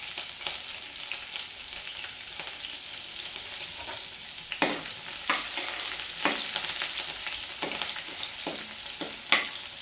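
Green chillies with garlic frying in hot oil, a steady loud sizzle with scattered sharp spatters and scraping stirs throughout, close up and with no voices.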